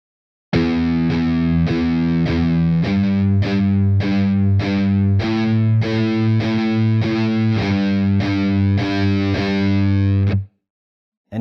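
Distorted electric guitar playing a steady run of palm-muted notes with the palm resting on the strings near the bridge, each note short and percussive, evenly spaced and loud with no talking.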